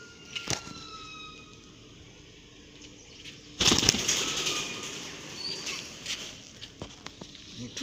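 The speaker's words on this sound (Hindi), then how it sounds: "मिट्ठू भी उड़ गया, मिट्ठू डर से भाग गया।" A sudden burst of parrot wings flapping as it takes off, loud and close, following quieter outdoor background with a few faint chirps.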